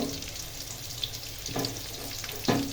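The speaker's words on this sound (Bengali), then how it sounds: "এখন তেলের ভিতরে আমি পেঁয়াজ আর শুকনো মরিচ দিয়ে দিলাম" Onion and dried chilies fry in hot oil with a continuous sizzle, broken by a couple of louder knocks and scrapes as the pan is stirred near the end.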